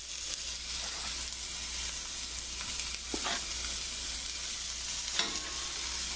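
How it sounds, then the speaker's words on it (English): Chicken thighs fry over a moderate flame in a pan, giving a gentle, continuous sizzle at low volume. A few brief scrapes and crackles rise above it as the pan is stirred or shaken, and nobody speaks. "As long as you hear a little sizzling like that, then you know it's hot enough."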